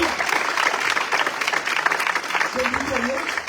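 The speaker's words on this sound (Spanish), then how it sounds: "Denle un aplauso al Señor por esa garantía." Congregation at a Spanish-language Bible study service clapping together in a steady dense applause, fairly loud and continuous, with a voice speaking briefly near the end.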